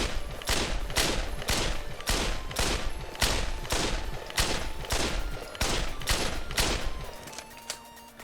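Rapid bursts of gunfire in the VR shooter Pavlov VR, roughly a dozen loud, evenly spaced shots in a steady rhythm, close and dominant with no talking.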